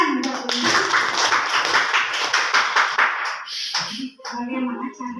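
An audience at a seminar breaks into loud, dense applause that holds steady for several seconds and then thins out, followed by a few scattered claps and some brief talking.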